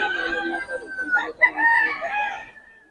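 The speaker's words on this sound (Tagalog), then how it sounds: "maraming manok to" Several chickens nearby crow and cluck over one another, one rooster's call rising clearly above the steady flock chatter.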